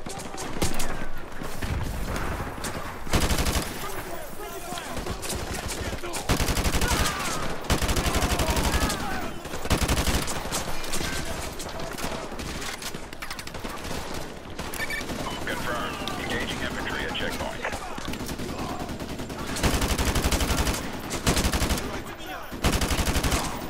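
Call of Duty Modern Warfare 2 campaign firefight, with sustained automatic gunfire in repeated loud bursts and fusillades that continue throughout, punctuated by heavier blasts, while a voice talks intermittently beneath the shooting.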